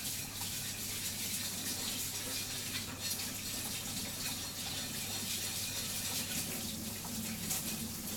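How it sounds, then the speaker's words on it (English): Plates are washed up under a running tap, making a continuous steady rush of water with faint clatter, close and even throughout. "I'm just washing up the plates at the moment"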